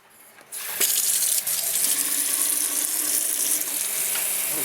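Tap water gushes steadily into a sink during washing with soap, starting with a sudden burst and then running loud and continuous, close by, with no talking.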